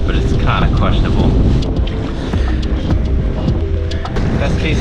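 Steady wind roars over open water at a parawing session with 4.5 Paia and 4.2 Ka'a wings, heavy continuous buffeting close to the microphone with occasional splashy gusts throughout.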